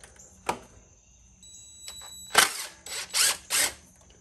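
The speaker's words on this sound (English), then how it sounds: "I'm gonna use my little handy dandy short stubby drill" A small stubby power drill drives a bolt on a Harley-Davidson Pan America motorcycle in short bursts, a brief whir followed by a cluster of three quick, loud runs, with quiet gaps between.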